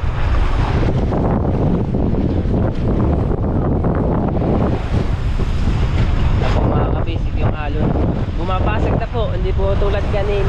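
Strong ocean waves during the amihan season, roaring and surging continuously at close range, with heavy wind buffeting the microphone and a voice rising faintly near the end.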